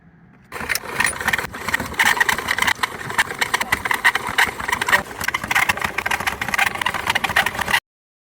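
A dinghy engine runs steadily for several seconds after a brief quiet start, with a rough, rattling mechanical drone close to the microphone.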